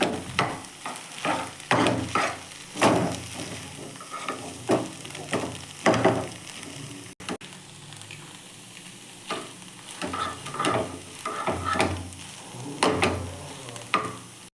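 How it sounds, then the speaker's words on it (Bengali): Food frying in a pan with Maggi masala, continuous sizzle broken by repeated scraping strokes of a spatula, busy and fairly close, with a short lull midway. "মশলাটা অ্যাড করে দিলাম, করে ফ্রাই করে নেব"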